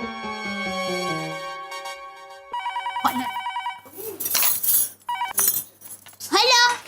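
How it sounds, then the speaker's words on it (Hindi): A telephone rings in repeated electronic bursts, close and clear, between which dramatic music and voices break in. "सीडी भाई का फोन है।"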